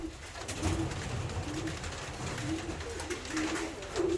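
A young pigeon hen coos repeatedly in soft, low, rhythmic phrases close by, with faint background rustle and no talking.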